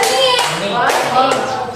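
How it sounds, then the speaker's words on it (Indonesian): Schoolchildren in an Indonesian classroom clap on cue, a brief burst of several quick hand claps amid children's chatter, close and fairly loud. "Kalau ibu bilang siang, maka kalian tepuk 2 kali."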